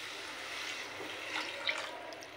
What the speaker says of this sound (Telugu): ఇందులో మనం వాటర్ అనేది వేసుకుందాం